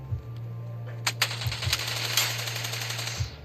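Video game gunfire rings out in a few sharp, separate shots and short bursts over a steady low electronic hum, fairly close and loud, with no voices.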